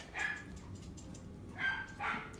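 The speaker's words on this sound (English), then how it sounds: "Oh, Moppet is barking?" A dog barks twice, a short bark near the start and a second pair of barks after a pause, fairly faint and somewhat distant with no talking.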